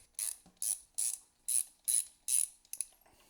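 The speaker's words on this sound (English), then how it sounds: "First thing that we have to do is remove the spark plug." Ratchet wrench turning on the spark plugs of a BMW 325is engine, giving six evenly spaced bursts of sharp clicking, close and crisp, with a few shorter clicks at the end and no talk.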